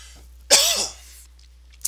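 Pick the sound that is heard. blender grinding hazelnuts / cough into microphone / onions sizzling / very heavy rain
cough into microphone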